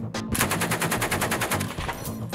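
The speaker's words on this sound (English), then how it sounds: "I was trying to hit everything I shot there" Gun fired in rapid succession at an outdoor shooting outing, a loud close string of roughly twenty fast, evenly spaced shots after a brief pause, with no talk over the firing.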